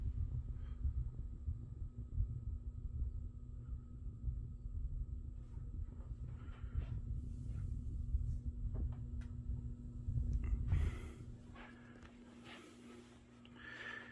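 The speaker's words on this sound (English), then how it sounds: "definitely a pretty solid column of air coming out of this fan" A 52-inch NuTone Verandah Deluxe ceiling fan with a wobble, running with a faint, steady low hum and soft rhythmic throb of moving air, plus a few light rustles toward the end.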